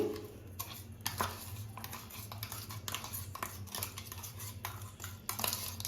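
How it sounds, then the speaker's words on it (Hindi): Finely ground powder is transferred from a grinder into a large-size kitchen vessel, producing continuous close scraping and metallic clinking of a spoon against metal throughout, with no talk. "और अब इसको एक बड़े साइज के बर्तन में ट्रांसफर कर लेंगे।"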